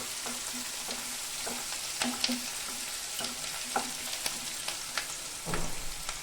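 Softened, salted onions frying in a pan, a low steady sizzle with repeated scraping and stirring knocks of a spatula, and a louder clatter near the end; no voices.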